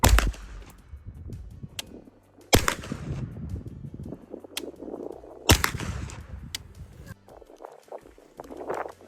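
Four sharp 9x21 pistol-calibre shots from an AKDAS SA-9 fitted with a gas-relief muzzle brake, fired outdoors at a range with cheap ammunition; each loud crack is followed by a short echoing tail, spaced a few seconds apart.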